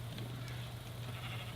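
Sheep bleating in Minecraft survival play, a brief wavering bleat over steady background noise, fairly close.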